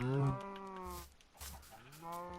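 Cows in the Minecraft video game moo in a few long, low calls that overlap, close and clear with no talking.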